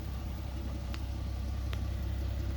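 A 2010 Infiniti G37X with a custom exhaust and 4-inch tips runs at idle, holding a faint, steady low rumble with no voices.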